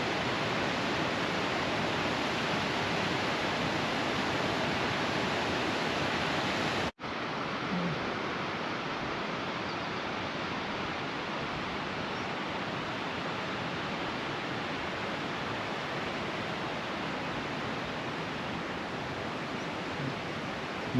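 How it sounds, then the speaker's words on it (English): A Yellowstone waterfall gives a steady, dense rushing roar that continues unchanged, apart from one momentary dropout early on. "you can really see the whole falls from here."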